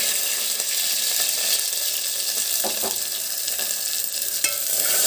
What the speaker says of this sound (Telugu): ఇప్పుడు ఆయిల్ హీట్ ఎక్కిందండి ఇదో ఎర్రగడ్డ తరుక్కున్నాను కదా ఎర్రగడ్డ కొంచెం